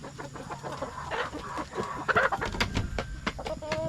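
Rhode Island Red chickens cluck and murmur close by in irregular bursts, with scattered clicks and rustling around them.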